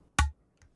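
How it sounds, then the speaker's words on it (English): A single deep, booming udu drum hit with a resonant low tail, followed by a couple of faint soft taps. "That's just the Udu drum that I recorded, which makes a nice low pitchy bass sound."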